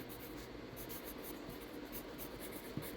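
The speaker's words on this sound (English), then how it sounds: "So we'll write this down." Pen scratching across paper while notes are jotted down, a faint continuous scribbling with small rhythmic strokes, close and quiet with no one speaking.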